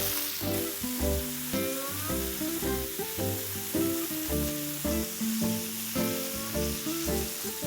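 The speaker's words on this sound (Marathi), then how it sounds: "तर आपण हे आता चिकनचे पीसेस परतवून घेऊया." Chicken pieces sautéing in a pan for chicken lapeta, a soft sizzle beneath rhythmic tonal music, with faint scraping now and then, no voices.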